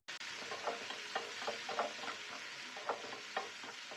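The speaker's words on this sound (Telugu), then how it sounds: "పచ్చిమిర్చి కొంచెం వేగిన తర్వాత 1 కప్పు టొమాటోలు కూడా యాడ్ చేసుకుని రెండింటిని బాగా" Green chillies and tomatoes fry in hot oil in a home kitchen, a steady soft sizzle broken by repeated scraping stirs at an even pace, close and fairly quiet.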